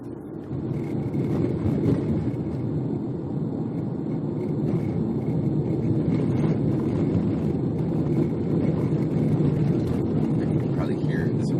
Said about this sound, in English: You can probably hear this road is really bumpy, so you probably hear everything rattling around in the car.